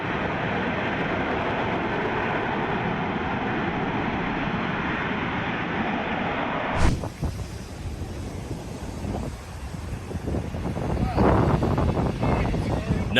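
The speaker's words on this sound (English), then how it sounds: "This is the shortest takeoff a plane has ever made." Propeller plane making an extremely short takeoff, a steady loud engine drone with wind buffeting that cuts abruptly to quieter outdoor noise and rustling, with a voice speaking.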